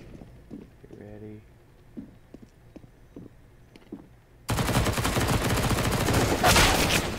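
An MP9 submachine gun in CS:GO fires one long, loud, continuous burst that cuts in abruptly after several seconds of quieter game sounds and a brief voice.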